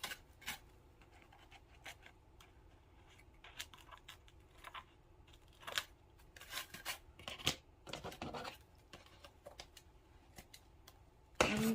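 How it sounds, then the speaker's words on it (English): Scissors snip through paper in short irregular bursts, quiet and close, with soft rustling between cuts, trimming excess paper around a heart shape. "take your scissors and kind of go along the edge of the heart with your scissors and cut that excess off"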